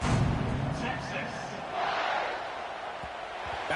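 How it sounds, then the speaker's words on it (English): Football stadium crowd in a video game buzzing steadily just before a kickoff, a dense, broad roar that swells and dips slightly throughout. "this crowd is buzzing after that last score"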